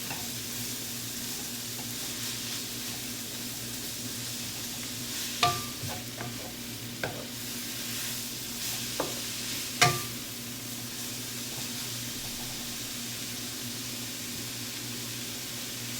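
A spoon stirs soup noodles in a cooking pot over a steady low simmer hiss, with a few sharp clinks and scrapes against the pot scattered through the middle.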